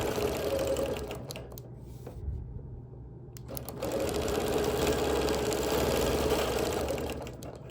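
Quilting sewing machine stitching across pinned quilt layers, a close rapid needle chatter that pauses for a couple of seconds, then resumes steadily, with no talk.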